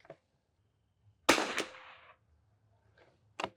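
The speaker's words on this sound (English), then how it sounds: "let's go ahead and shoot a few rounds" Two sharp rifle gunshots fired at an outdoor range while testing velocity over Athlon and Garmin chronographs; a loud near crack with a trailing echo, then a second shot at the end, with faint clicks and ticks between.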